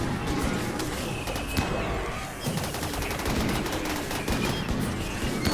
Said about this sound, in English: take aim, and bring down the remaining targets with long-range weapons.